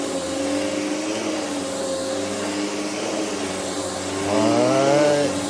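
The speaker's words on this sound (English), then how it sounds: "I got a lot more vacuuming to do." A vacuum cleaner runs steadily on carpet in a house, a loud continuous motor drone that rises in pitch and volume near the end as the head is pushed along.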